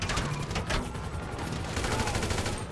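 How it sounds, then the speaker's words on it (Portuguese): Rapid bursts of gunfire from helicopters in the GTA V video game, sustained automatic fire at moderate level in a busy mix, with no speech. "Ah, eu tô levando tiro. Dos helicópteros"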